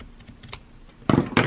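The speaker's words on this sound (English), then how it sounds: "take some scissors and true it up" Scissors trim the edge of bra-making fabric in two quick, crisp cuts close up, after a few soft handling noises.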